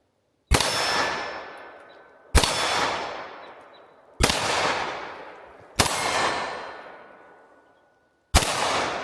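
Smith & Wesson .22 Magnum handgun shots at an outdoor range, five loud reports spaced about two seconds apart, each followed by a long ringing decay as rounds strike a large steel target, no talk.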